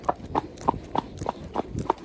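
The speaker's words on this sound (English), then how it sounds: "And he's just carried on this trot." A horse trots steadily on a trail ride to a quarry, hooves clip-clopping in an even, close rhythm of about seven beats, with no talk over them.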